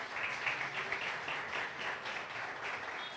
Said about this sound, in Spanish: Demos un aplauso a la palabra de Dios